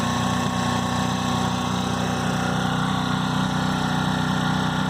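A Ryobi propane-powered portable generator runs steadily nearby with a continuous, even engine hum and a smooth mechanical drone, unbroken and loud throughout with no talking.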